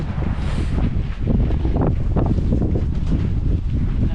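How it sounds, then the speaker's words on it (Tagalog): Strong wind in Canada roars continuously and buffets the microphone in heavy, rumbling gusts, loud and unbroken throughout. "lakas ng hangin"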